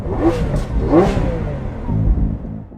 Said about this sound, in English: the amazing sounds from the engine